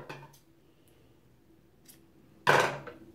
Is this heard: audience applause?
no